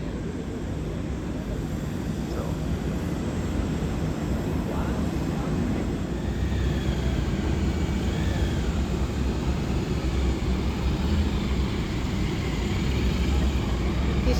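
Presidential jets of the U.S. and South Korea arriving at Rio de Janeiro's Galeão International Airport for the G20, a steady broad jet engine roar and rumble filling the whole stretch, loud and continuous with faint distant tones.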